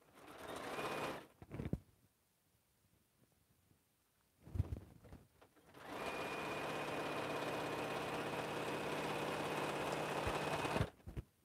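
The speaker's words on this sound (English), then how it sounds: "Straight sewing." Sewing machine straight-stitching quilt pieces for an African-themed quilt, running in a short burst, pausing, then sewing steadily for several seconds at close range with no talk.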